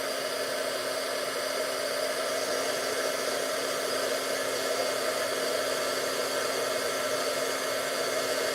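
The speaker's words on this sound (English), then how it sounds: "Sorry for the loud heat tool." A handheld heat tool for craft heat embossing on a stamped card blows a continuous loud, hissing whoosh of hot air at an even level throughout, close to the mic and with no talk.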